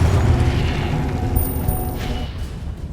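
A deep, booming blast from a Confringo fire spell in the video game Hogwarts Legacy rolls out loudly and fades over a few seconds, with a low rumble and a faint high ringing.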